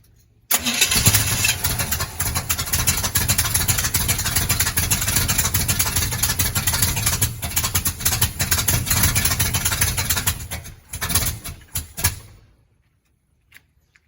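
A 1980 Chevy Squarebody K30 truck engine catches almost at once and runs loud and rough for about eleven seconds, then sputters briefly and shuts off into quiet.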